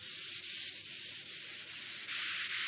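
Hard trance sweep effect treated with an exciter and light compression, a steady bright noisy hiss sustained throughout with faint periodic pulses, loud and alone.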